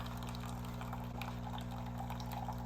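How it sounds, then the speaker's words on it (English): Espresso machine that has just stopped pumping, with coffee dripping out of the spout into a cup, a faint steady trickle over a low hum. "So the machine stopped. Now it's just dripping out."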